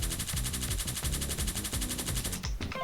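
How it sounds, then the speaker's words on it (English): The player's shot in a danmaku bullet-hell game fires as a loud, rapid, machine-gun-like stream of identical pulses for over two seconds, then cuts off abruptly. "The shot is very loud somehow."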